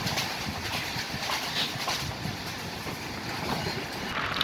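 Steady rumbling of a train running along a rail line through countryside between Kushtia and Joypurhat, a continuous broadband roar with faint rattling, heard from inside the carriage with no voices.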